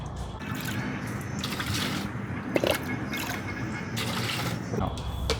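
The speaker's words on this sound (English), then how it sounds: "I'm going to fill up roughly 3 liters." Roughly three liters of water pour into a container while preparing a hydroponic nutrient solution, a steady splashing fill with intermittent drips and sloshes.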